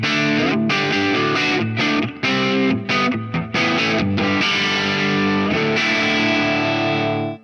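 Distorted electric guitar run through effects, its reverb tail ducked beneath the main played sound; dense sustained chords with a few brief dropouts, loud and continuous without any voice.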